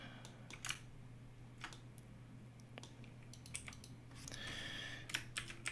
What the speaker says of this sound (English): What I'm gonna do is just type it out.